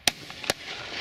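Two sharp shotgun reports at a driven game shoot, crisp and fairly close, about half a second apart, then quiet outdoor air.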